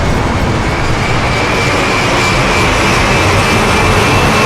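A fast aircraft or vehicle passes close by, recorded as source sound for the Sniper Elite bullet kill cam. It produces a loud, continuous broadband roar that holds steady for several seconds.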